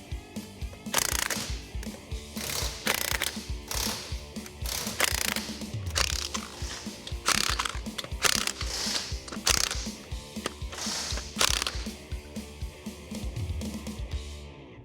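A ratchet wrench clicks in rapid repeated strokes, close and steady, while heavy-duty Nismo open-end forged lug nuts are fastened onto the wheels of a Nissan Frontier pickup truck.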